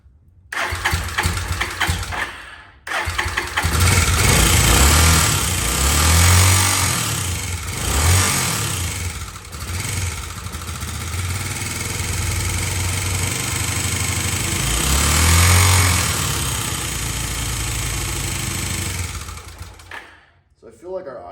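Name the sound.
revived abandoned motorcycle engine running and idling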